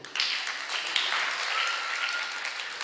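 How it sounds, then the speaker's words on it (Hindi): Audience applause at a Jain monk's religious discourse session, a steady wash of many hands clapping that holds for the whole stretch, moderately loud with no talk over it. "ताली नहीं बजाओगे? क्यों? कारण जब अच्छा होगा, कार्य अच्छा होगा, तो तालियां बजेंगी कि नहीं?"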